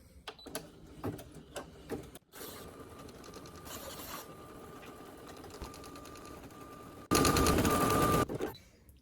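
An embroidery machine stitches a Halloween lollipop holder design in the hoop, its rapid mechanical needle chatter running steadily, with a louder, denser burst near the end and a few clicks at the start.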